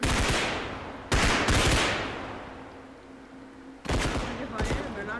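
Gunfire in the police shooter game Bodycam, four loud sharp bursts of shots with ringing decay between them, close by and unaccompanied by talk.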